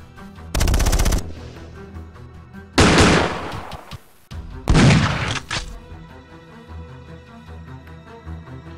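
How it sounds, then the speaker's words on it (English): Three loud bursts of machine-gun fire, each about half a second to a second long, added as a sound effect to narration of a Five Parsecs from Home tabletop battle, with a quieter rumbling backdrop between them and no talk. "But Yakar, with a simple shot of her shotgun, downs one of the mercs."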